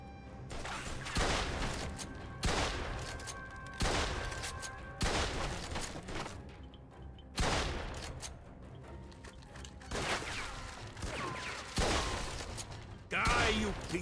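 Shotgun blasts in the Mafia II video game ring out in a steady series of loud, widely spaced booms, roughly every one to two seconds, each with a short decaying tail over mechanical pumping clatter.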